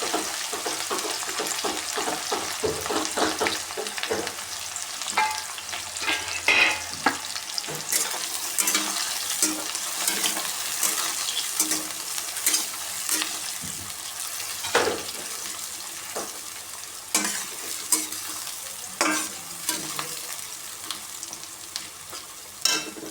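Chopped onions frying in a pan, a steady close sizzle stirred throughout with frequent scraping and clinking knocks of a utensil, no talking.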